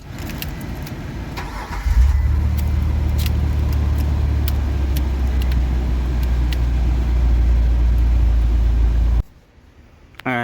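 Car engine starts and a car AC blower motor runs after repair, a steady loud low hum and whir that holds for several seconds, then cuts off abruptly, with no talking.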